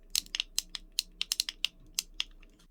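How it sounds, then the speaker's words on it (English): Mechanical back paddle buttons on a Besavior custom game controller click sharply and close to the mic, about a dozen crisp, unevenly spaced presses in quick succession against a quiet background. "The back paddles have a really satisfying click."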